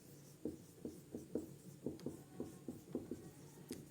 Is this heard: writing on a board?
yes